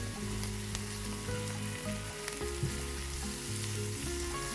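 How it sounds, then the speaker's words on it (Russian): Chopped garlic frying in a pan with already fried onion gives a steady, close sizzle with small crackles and pops throughout, without talk. "Отправляю нарезанный чесночок к обжаренному луку."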